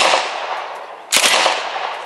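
A firearm is emptied at a range, its shots cracking loud and close in a quick cluster after steady outdoor background noise.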